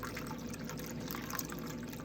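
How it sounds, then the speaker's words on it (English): Cranberry juice cocktail poured from a shaken mixer into a glass, a steady liquid trickle and splash running continuously at close range, fairly quiet, with no talking. "So we're going to give this a good shaky, and we pour."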